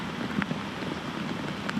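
Heavy rain and strong wind lash Kaohsiung Port during a typhoon, making a dense, steady hiss of downpour with gusty roaring that stays continuous and loud through the short stretch.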